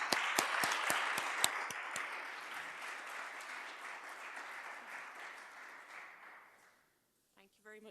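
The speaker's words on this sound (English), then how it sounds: "And a big applause for all the contributors now, but all the contributors during this day." Audience applause for forum contributors at the close of an academic forum's afternoon session: a few sharp individual claps at first, then dense, steady clapping that gradually thins and fades out, followed by a brief pause and a faint voice starting up.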